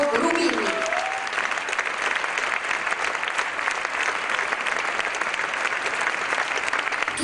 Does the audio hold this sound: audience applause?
yes